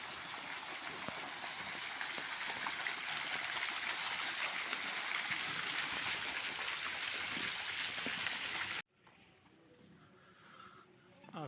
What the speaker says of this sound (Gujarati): પાણીના ફુવારા